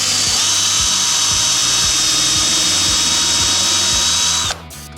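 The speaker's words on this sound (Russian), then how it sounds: "Надо предварительно засверлиться, чтобы у нас не лопнула древесина." A power drill pre-drilling a pilot hole in wood for a screw while building stilts, a loud steady high motor whine with rhythmic low knocking from the bit, cutting off abruptly near the end.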